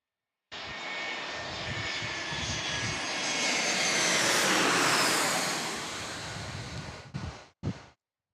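A Delta Airlines jet airplane at San Diego airport roars past, its engine noise rising to a loud peak mid-pass then fading, with wind rumble and a few brief knocks at the close.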